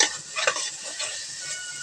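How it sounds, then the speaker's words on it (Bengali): Ground cumin and coriander fried and stirred in a pan for a Bengali-style chicken roast, a steady close sizzle with soft scraping stirs and no voices. "এবার একটু ভালো করে এটাকে কষিয়ে নেব।"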